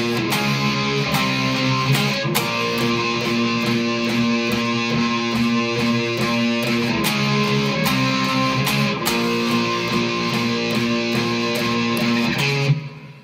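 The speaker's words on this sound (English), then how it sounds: "I've got loads of distortion on the guitar sound." A heavily distorted electric guitar plays a repeating riff of chugging power chords, loud and sustained with sharp attacks throughout.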